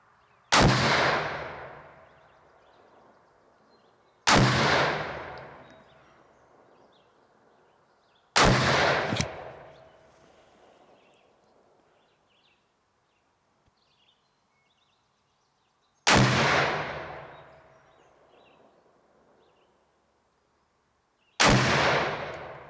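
A Kel Tec RDB-C rifle fires five loud shots outdoors, spaced a few seconds apart, each a sharp crack that fades with a trailing echo.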